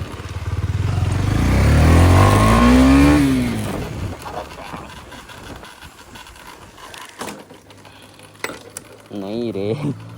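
Motorcycle fitted with an SC Project exhaust revs hard and loud during a wheelie, the pitch climbing then dropping as it passes close by, followed by quieter rumbling, clicks and a short rising rev later.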